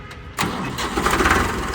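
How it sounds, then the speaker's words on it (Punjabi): A Farmtrac 45 tractor's diesel engine starts with a brief cranking burst, then catches and settles into a steady, close idle rumble. "ਟਰੈਕਟਰ ਵਧੀਆ ਹੈ ਤੇ ਬਾਕੀ ਤੁਹਾਨੂੰ ਸਟਾਰਟ ਕਰਕੇ ਦਿਖਾ ਦਿੰਦੇ"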